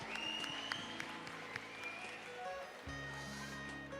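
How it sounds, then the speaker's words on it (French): A crowd applauds at a breed cat show final at the agricultural fair, with a steady patter of clapping mixed with music tones and a shift in the backing sound partway through. "Vous pouvez les applaudir encore bien fort."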